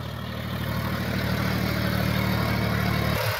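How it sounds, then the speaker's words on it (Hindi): A John Deere 5205 tractor engine labours while pulling a harrow through a field, a loud, steady droning rumble close by that holds constant before cutting away at the end. "ट्रैक्टर स्लिप मार मार के चल रहा भाई"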